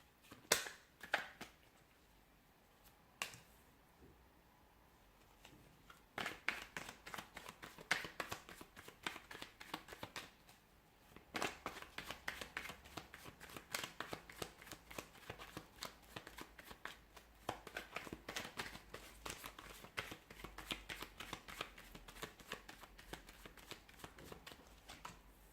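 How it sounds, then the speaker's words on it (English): Tarot cards are shuffled by hand close up, a quiet crisp riffling and flicking in irregular bursts with short pauses between them. "give the cards a shuffle"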